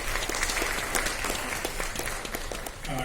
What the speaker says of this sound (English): One round of applause for Sarvesh.